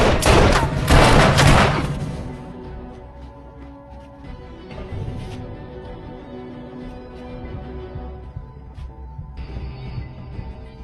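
Gunfight from a 1992 action film: a dense burst of rapid gunfire in the first two seconds, then sporadic thuds and shots under a low rumbling score, with background noise continuing to the end.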